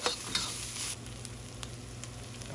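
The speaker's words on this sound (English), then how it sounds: "Stir fry that in." Red curry paste stir-fried in a pan for Thai-inspired fried rice, a steady close sizzle with a few scraping stirs at the start.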